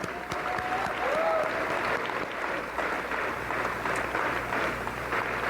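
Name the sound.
audience applause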